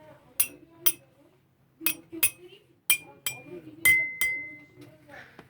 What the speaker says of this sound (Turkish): boştan doluya doğru giden bardaklarımıza kaşığımla vurarak